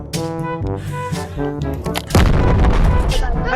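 An explosion in the VR game Animal Company hits about two seconds in as a sudden loud, roaring blast that rumbles on, following a stretch of tonal, voice-like sound.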